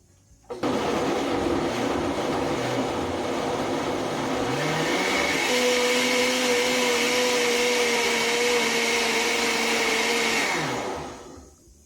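A blender grinds softened chiles in chicken broth for traditional Tarasca soup, a loud, steady roar running for about eleven seconds, with the motor pitch rising and shifting partway through before winding down.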